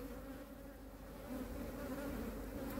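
Honeybees hum steadily at a hive holding twenty frames, a dense, continuous close-up drone that grows a little louder partway through, with no voices.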